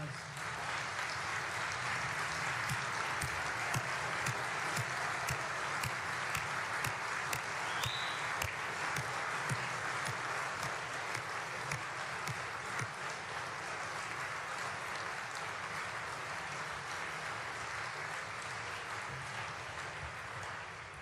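A large crowd applauds steadily and continuously at a Kansas State of the State address, dense clapping that holds at an even level throughout with no voices standing out.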